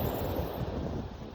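Steady rushing wash of water waves, with broadband surf noise and some wind buffeting the microphone, continuous and fairly close with no voices.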